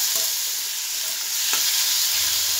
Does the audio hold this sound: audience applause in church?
no